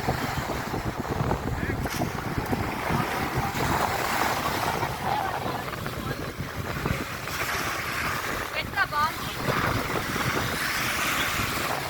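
Surf washing onto a grey-sand beach at Rameswaram, a steady broadband rush of waves and wind buffeting the microphone, continuous and fairly loud throughout, with a brief faint voice near the end.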